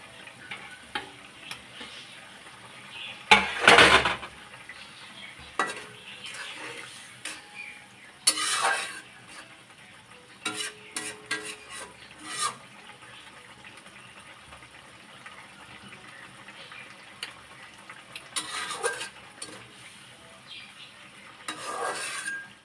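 Eggs are added to a frying pan and stirred, with scattered metallic scrapes and clatters of a utensil against the pan at irregular intervals. A soft frying hiss runs underneath in a quiet home kitchen.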